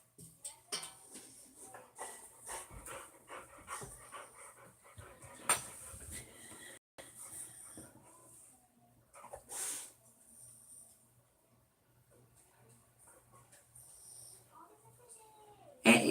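A dog pants, snorts and whimpers close by in a quiet room, in scattered bursts with pauses, while a person talks to it in between.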